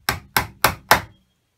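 Four sharp, evenly spaced hammer taps on upholstery tacks, struck with a non-magnetic hammer while re-covering a seat, each blow close and loud with a short decay and no talking.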